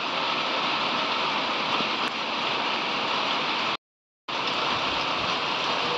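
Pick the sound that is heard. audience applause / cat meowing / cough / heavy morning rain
heavy morning rain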